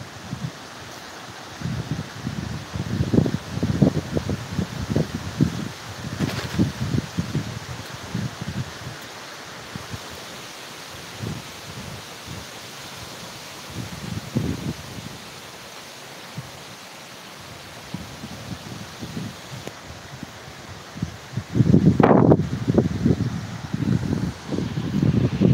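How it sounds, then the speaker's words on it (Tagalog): Strong gusty wind roars and rustles through leaves in uneven surges, loud and close, with a harsher burst near the end and no voices. "Ang lakas ng hangin dito"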